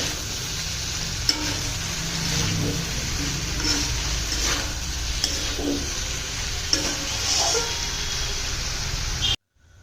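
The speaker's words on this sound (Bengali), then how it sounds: "এবার এর মধ্যে দিয়ে দেব ধনে পাতা কুচি আর ভেজে নেওয়া ডিমগুলোকে একবার ভালো করে মিশিয়ে নিতে হবে" A spatula stirs chopped coriander leaves and fried eggs through a spring onion egg bhurji in a pan, steady scraping and stirring strokes over a soft continuous sizzle, close and moderately loud, no talking.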